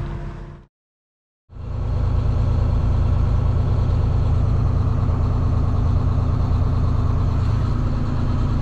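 A parked semi truck's diesel engine idles during a regen, a loud, steady low rumble that drops out briefly near the start before resuming and droning on unchanged, with no talking.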